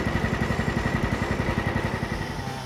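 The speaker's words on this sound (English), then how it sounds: "this is me cutting down some trees in my backyard" Chainsaw running in a backyard while trees are cut down, a close, steady mid-pitched engine drone with a fast regular pulsing throb that eases slightly toward the end.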